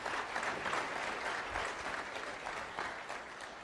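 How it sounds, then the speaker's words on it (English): A faculty audience at a College of Arts and Sciences meeting claps steadily for several seconds, a dense, even patter of many hands filling the room, fading slightly toward the end. "that's the first applause I've received from any faculty group I've been speaking to"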